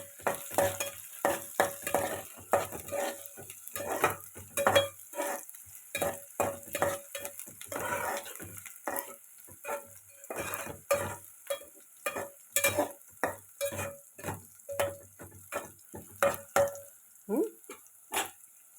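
Two garlic cloves fry in oil in a pan while a spatula stirs them, producing a steady sizzle broken by repeated rhythmic scraping strokes at close range.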